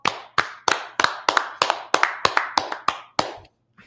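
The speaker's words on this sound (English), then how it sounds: "Let's clap it up for the Lord." A small congregation at a religious brotherhood class claps in praise, about a dozen sharp, distinct claps in a loose, slightly uneven rhythm, close and clear, trailing off into silence.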